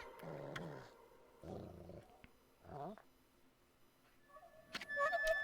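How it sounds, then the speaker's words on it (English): Whimpering dog cries from the video game Okami, a few short separate wails with pauses between, followed by chiming game sounds near the end, moderately quiet. "Is that doggy crying somewhere, sis?"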